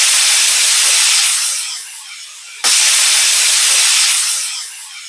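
A pressure cooker cooking beef lets out loud, close steam whistles: a long hissing blast that fades, a sharp cutoff, then a second strong hiss that again trails off, with no voices.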